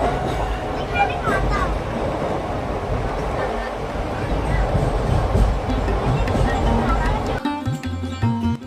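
A train in motion heard from inside the carriage on a long overnight rail journey, a steady low rumble and rattle running throughout with background talk mixed in, changing character near the end.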